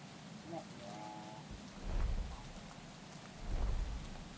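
Steady rain hisses under low rumbles of thunder in the video game Thief, with a faint voice briefly in the background.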